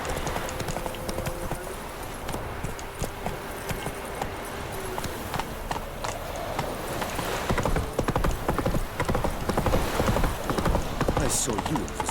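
Hooves clip-clop steadily from a horse ridden in The Witcher 3 video game. The rhythmic hoofbeats stay close and grow busier and louder toward the end, with a faint neigh.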